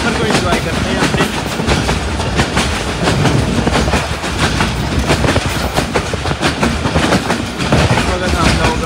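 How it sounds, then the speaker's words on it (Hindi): The Malkwal Express, a Pakistan Railways branch-line train, running on the tracks, a loud continuous rumble with rapid rhythmic clickety-clack of wheels over rail joints, heard from inside the carriage, with faint voices under the noise. "हमारी ट्रेन दौड़ रही है"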